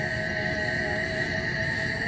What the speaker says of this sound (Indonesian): Suara tonggeret yang lumayan riuh.